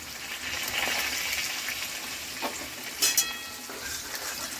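Potato pieces frying in hot oil for a mutton curry, a steady busy sizzle throughout with a few louder stirring clatters near the end.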